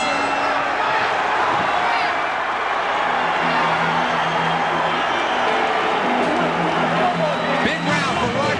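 Boxing arena crowd roaring at Roy Jones Jr. versus Vinny Pazienza, a 1995 IBF super middleweight title fight, with a constant loud babble of cheering voices under ringside commentary.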